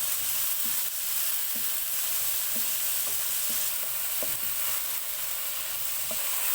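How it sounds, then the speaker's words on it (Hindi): Chicken with tomato and a green chilli fries in a pan over a medium flame, giving a steady close sizzle broken by a few soft scrapes of a spoon, with no voices. "इसको भी मीडियम फ्लेम पे 2 से 3 मिनट तक पकाएंगे"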